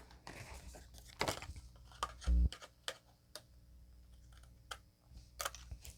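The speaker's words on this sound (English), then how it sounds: "I'm going to take a pair of scissors and just cut that right up to the edge" Scissors snip through cardstock while a handmade stamped birthday card is trimmed up to the edge: quiet, scattered sharp clicks and crisp paper crunches come irregularly, close to the microphone, with no voice.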